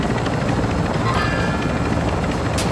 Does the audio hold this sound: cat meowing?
no